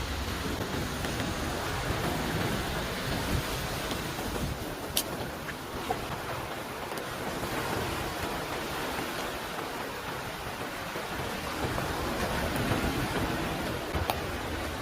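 Continuous rushing wash of strong sea waves, a dense roar with faint surges and occasional small clicks, no voices.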